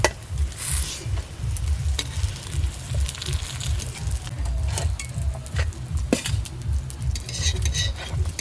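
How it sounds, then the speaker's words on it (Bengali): Lentil fritters with palta (pointed gourd) leaves sizzle and crackle steadily in hot oil, close and fairly loud, with occasional scrapes of a spatula against the pan. "এইভাবে বড়াগুলো ভেজে নিলে খেতে ভালো হবে"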